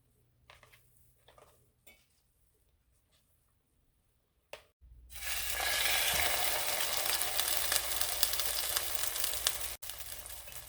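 Batter-soaked French toast hitting a hot pan: a few light clinks and taps of utensils first, then a loud, steady hissing sizzle that fills the rest, up close with a brief break near the end.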